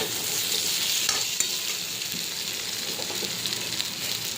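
Potatoes are stir-fried in a pan with a steady, close, hissing sizzle, broken by occasional scrapes and taps of stirring, and no voices.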